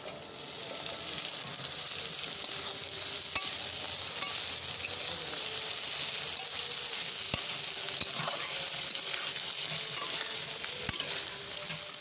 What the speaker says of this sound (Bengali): মাছ আর পেঁয়াজ একসাথে ভাজা হতে থাকবে